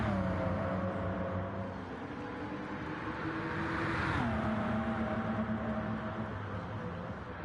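A race car's engine whine in Gran Turismo 7 during an online one-off race, a thin, steady tonal whirr with a pitch shift midway, loud and continuous without talk.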